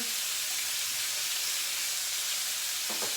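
Chicken thighs frying skin-down in a hot pan give a steady, fairly quiet hiss and sizzle that carries on without a break, with a small clatter near the end.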